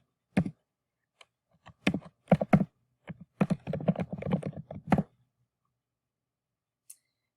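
An email address typed on a computer keyboard, close crisp key clicks in a few quick bursts, one short cluster after another, then a single tap after a pause.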